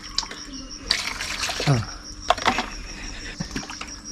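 Water poured over a baby during a bath at home, splashing and trickling in short irregular bursts, close by, with people talking and a voice over it.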